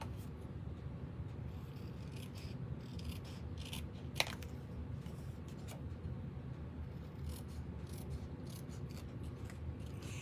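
Scissors snipping through stamped scrap paper during card making, a faint run of small crisp cuts with one sharper snip near the middle, heard alone in a quiet room.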